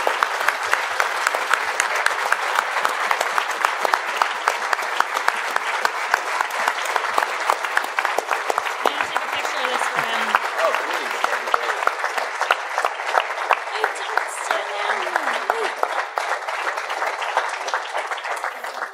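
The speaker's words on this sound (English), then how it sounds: "Okay, keep clapping." A conference crowd gives a standing ovation, sustained dense clapping that rolls on steadily for nearly twenty seconds with faint voices and cheers mixed in.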